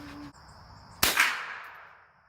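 A single sharp gunshot fired at a target board outdoors, a sudden loud crack with a ringing decay tail after a steady background hum.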